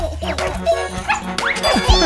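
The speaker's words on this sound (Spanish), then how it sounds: "¡Perrito!" A cartoon dog in a children's song about a police officer gives a few short yips and barks over music.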